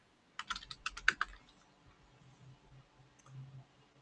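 A quick burst of keyboard typing, a dozen or so crisp clicks in a row, then a few scattered keystrokes over a low background hum.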